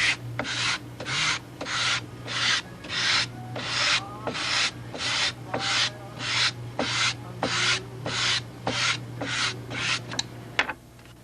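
Hand sanding of a wooden rudder on a model boat: about twenty steady, rhythmic rasping strokes, close and clear, with a low hum underneath.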